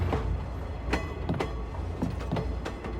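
A train rolling along rails in the adventure game Oceanhorn 2: a continuous low rumble with rhythmic clacks of wheels over track joints, steady and moderately loud, without speech.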